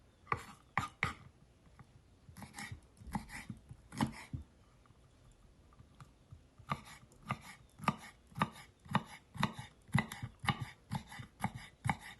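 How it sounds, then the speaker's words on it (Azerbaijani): Rapid knife chopping of green pepper on a board in quick bursts of sharp taps, pausing briefly midway before resuming a steady rhythm, fairly close. "yaşıl biberi də xırda-xırda doğrayıram"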